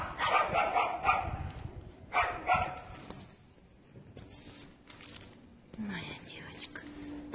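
An Alabai (Central Asian Shepherd) dog gives a few low barks and whimpers close by, partly covered by handling noise and quiet talk.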